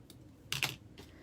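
Scissors cut a dovetail into the end of a thick deco mesh ribbon for a Christmas elf wreath: a few crisp, close snips in quick succession, with no talking.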